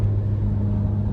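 A car drives along the road, heard from inside as a steady low engine and road rumble, loud and continuous with no voices.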